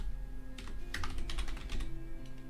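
Computer keystrokes clatter in a quick burst while Python code is written, close and fairly quiet, with a low electrical hum underneath and no voices.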